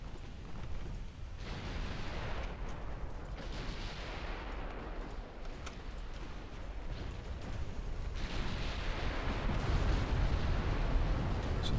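Naval gunfire from the 6-inch guns of the cruiser Stettin in the warship game Ultimate Admiral: Dreadnoughts: a dense, continuous rumbling barrage of overlapping booms that swells toward the end, with no talk.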